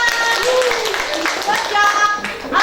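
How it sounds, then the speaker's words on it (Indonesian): Scattered clapping from a small group in an Indonesian classroom, with children's voices chattering and calling out over it throughout. "tepuk tangan buat kita semua"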